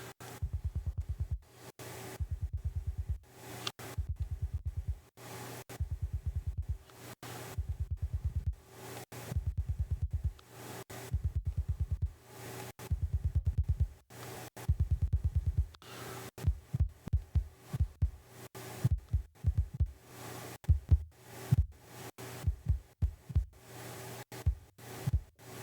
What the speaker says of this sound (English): I think this is a kick out. Yeah, kick sub, so we're not going to get too much high end on this one.